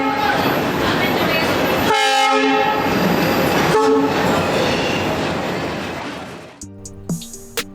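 The 12425 Delhi to Jammu Rajdhani Express sounds its horn at platform 16 in a loud, close, sustained blast with a second shorter blast, over a steady rail rumble that fades out.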